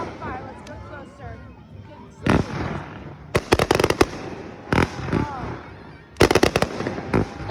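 Fireworks bursting outdoors in clusters of loud, sharp bangs and crackles, some in rapid bursts, with people chattering in the background between the blasts.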